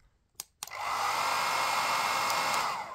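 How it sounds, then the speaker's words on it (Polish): Hair dryer plugged into a Wi-Fi smart plug clicks on and blows with a steady, loud whirring roar that holds for over two seconds after a couple of brief switching clicks. "Jak widać włączone, wyłączone, suszarka chodzi"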